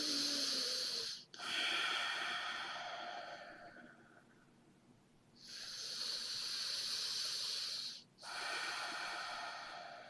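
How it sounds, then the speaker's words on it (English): Two long, deep breaths taken during a face yoga neck exercise with a hand pressed to the forehead, each a loud close airy inhale and exhale separated by short pauses. "and let's take 2 deep breaths"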